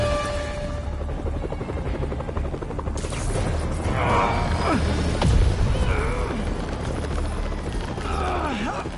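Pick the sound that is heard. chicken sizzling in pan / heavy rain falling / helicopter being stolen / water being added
helicopter being stolen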